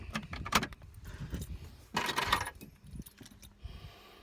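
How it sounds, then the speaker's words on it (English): Two sets of keys for a 1996 Ford Transit Nu Venture Sorrento diesel camper jangle close up in a couple of bursts of metallic clinking, with handling noises between them. "2 sets of keys."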